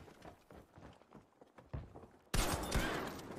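Close, loud shotgun blast in Battlefield V cuts in suddenly after scattered footsteps and shuffling movement inside a building, the boom ringing out and sustaining briefly.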